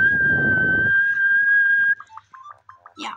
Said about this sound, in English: whenever I whistle on the phone, it's so loud.